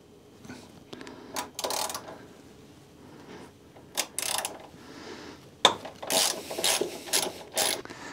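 A hand ratchet fitted with a 1/2 inch socket loosens the gas tank bolts on a motorcycle, giving bursts of quick clicking spread through the clip with quiet gaps between them, close and fairly loud, with no talking.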